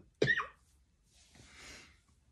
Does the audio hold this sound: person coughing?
yes